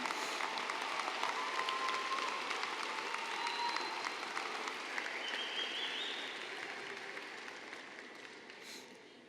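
A large commencement crowd at Lamar University gives sustained applause to the graduates' parents, a steady mass of clapping with a few whoops, holding level at first and then gradually fading toward the end.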